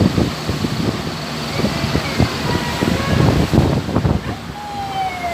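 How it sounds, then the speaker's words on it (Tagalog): Strong wind buffets the microphone on a passenger ship's cargo deck during a Manila to Cebu voyage, a steady, loud, rushing roar with gusty low rumbles and no speech. "Mahangin masyado guys."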